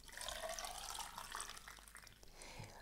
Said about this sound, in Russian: заливаются холодной водой